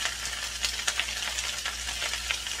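Steady hiss of fresh rice noodles stir-frying in a hot pan, with scattered crackles and the clink of stirring, fairly close and continuous throughout.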